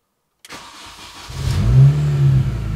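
A Mini Cooper engine cranks and catches after the ignition is cycled, then settles into a loud, steady low rumble close by, with no talking.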